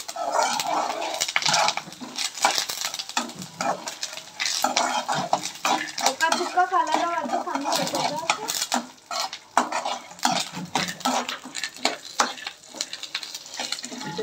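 Curry leaves frying in a pan for spicy peanut karam, stirred with a metal spoon, steady sizzle under repeated close scraping and clinking against the pan.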